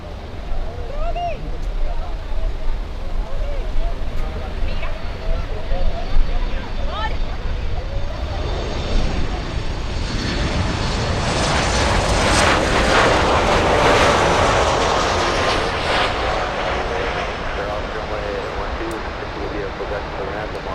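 An American Airlines jet arriving from Colombia at Miami International Airport rumbles in the distance, its broad engine roar slowly building to a peak and then easing, heard outdoors over a steady background wash.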